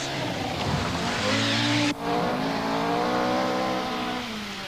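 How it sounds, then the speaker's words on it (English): A 1984 Audi Quattro Sport rally car on the RAC Rally in Great Britain screams up to its rev limiter, a loud sustained engine howl with a brief cut near two seconds before the pitch climbs again. "urging her Quattro Sport repeatedly to its rev limiter"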